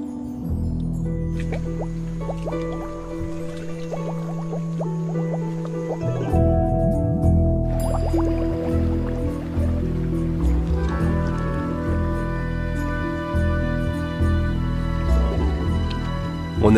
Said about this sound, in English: Blowing bubbles gets them in the mood.